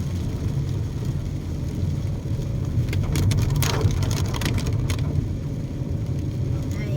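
Heavy rain drumming on a car travelling a mountain road, a steady dense patter with a few sharper bursts of drops midway, heard close from inside the vehicle.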